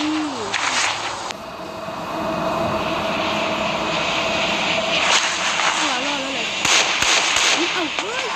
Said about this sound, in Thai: เครื่องบินกำลังมาเลย